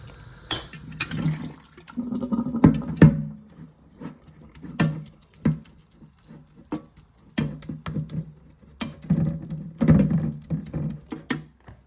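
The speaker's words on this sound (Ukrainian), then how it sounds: "Зараз я її процедю і додаю до фаршу." Cooked cabbage is strained, with water splashing and pouring off in repeated uneven bursts, wet sloshes and patters alternating with brief pauses, close and fairly loud.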